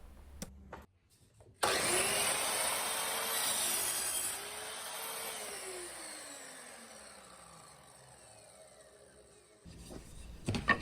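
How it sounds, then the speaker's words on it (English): A miter saw cutting through pine trim in a garage: a loud, sustained whining buzz with a gliding pitch as the blade spins up, bites through the wood and winds down, then stops. "So I will measure it off and throw it under the miter saw for a few nice cuts"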